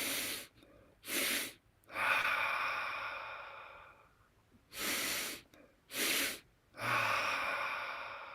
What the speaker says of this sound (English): Soft breathing.